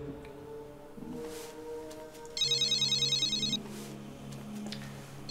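A telephone rings in a dramatic Egyptian TV series scene, a loud electronic ringtone that sounds as one sustained burst of rapid trilling for about a second, rising clearly above a low room hum and soft background music.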